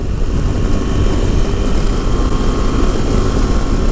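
Steady, loud roaring wind noise buffets the rider on a moving KTM Adventure 390 motorcycle, a continuous broadband rush with engine drone beneath and no break.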